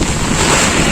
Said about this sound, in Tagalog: Malakas yung ulan. Tapos may hangin pa.